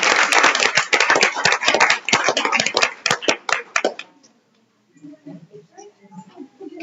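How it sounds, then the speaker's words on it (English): Audience applause at a school board meeting in Jefferson City, a burst of close, dense handclaps that stops abruptly after about four seconds, followed by quiet murmuring voices. "All right, one more round of applause."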